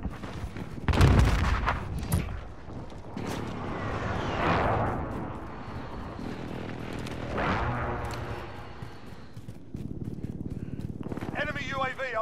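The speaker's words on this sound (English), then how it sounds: "Be advised, friendly precision airstrike inbound." Precision airstrike explosions in a first-person shooter game land as deep, rumbling booms mixed with gunfire, the blasts rolling and overlapping over several seconds amid game voices and chatter.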